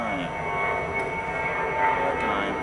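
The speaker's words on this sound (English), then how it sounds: "There's really a lot of airplanes in here. Because we're near JFK." Airplanes fly overhead near JFK airport, a broad, steady engine roar drifting over a home garden and holding across the whole stretch without fading.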